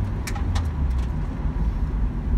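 A Nissan Skyline R34 GT-T with a 2.5-litre six-cylinder engine cruises in low gears, giving a steady low rumble heard from inside, with a few brief clicks near the start.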